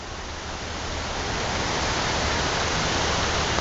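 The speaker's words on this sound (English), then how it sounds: "We're up here close to the waterfall." A waterfall at an old dam on the Tuscarora River roars steadily up close, broadband and unbroken, with no voices.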